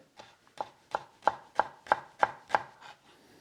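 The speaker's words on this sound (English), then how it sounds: "I just cut the shallot into 2, and then we sliced it relatively finely." A knife finely slicing halved shallots on a cutting board, about ten crisp, evenly paced chops that build slightly in loudness, close up with no voices.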